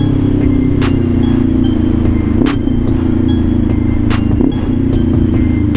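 A Kawasaki Ninja 500 SE motorcycle cruises along an expressway, its engine a steady, close, loud drone under heavy wind rush, with a few brief sharp clicks and knocks.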